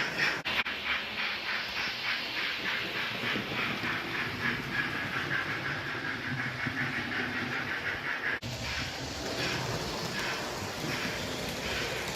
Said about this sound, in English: So get some footage of those trains running.